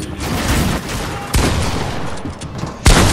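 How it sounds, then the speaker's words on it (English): Dense video-game gunfire rattles in a sustained loud burst of overlapping shots, with sharper cracks standing out near the middle and the end, and no voices. "You tried to shoot me and you missed."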